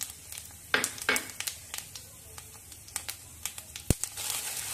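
Fennel, cardamom, cinnamon, cloves and peppercorns fry in hot oil with a steady, crackling sizzle, punctuated by sharp spattering pops and a few louder crinkly bursts, close and fairly quiet.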